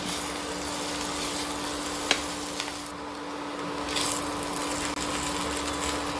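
Sabudana khichdi being stirred in a pan for a fasting dish, a steady soft sizzle with light scraping that runs without a break, one small clack near the middle, no voices.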